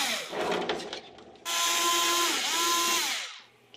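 A power drill spins out screws from a portable AC unit, a brief clatter followed by a close, loud whirring run of about two seconds that dips in pitch midway and stops.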